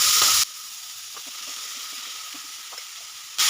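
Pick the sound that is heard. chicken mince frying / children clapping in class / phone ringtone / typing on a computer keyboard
chicken mince frying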